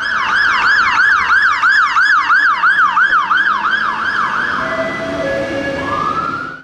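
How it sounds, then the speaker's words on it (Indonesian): A toy fire truck sounds a loud, rapid wailing siren that cycles repeatedly in quick even sweeps, then shifts to a steadier electronic tone before cutting off, with no talking. "Mobil pemadam kebakaran."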